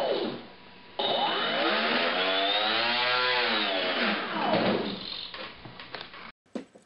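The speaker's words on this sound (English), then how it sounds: "It has an annular wing and counter-rotating blades to eliminate torque from the motors." Electric motors driving the counter-rotating blades of a model VTOL aircraft with an annular wing whine up loudly and steadily, the pitch sweeping up and down before cutting off abruptly.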